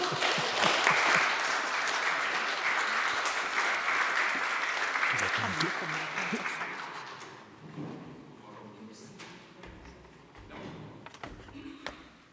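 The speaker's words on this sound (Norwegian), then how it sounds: "Og så er det mer applaus." Conference audience applause at a Norwegian vulnerability conference, a loud full round of clapping for about six seconds that dies away, followed by quieter shuffling, taps and scattered talk.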